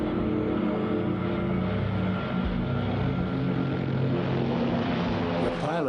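A heavily loaded propeller bomber on the Doolittle Raid drones loudly at full throttle on its takeoff run, a continuous thick multi-engine roar with a rising pitch toward the end.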